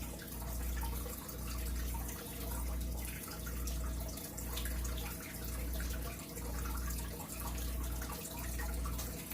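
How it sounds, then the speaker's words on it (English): Fish tank water runs steadily in a room, a soft continuous trickle and bubbling with a faint regular low pulse beneath it, quiet and without speech. "What's the water sound? Fish tank."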